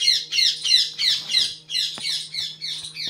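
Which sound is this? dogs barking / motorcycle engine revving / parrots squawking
parrots squawking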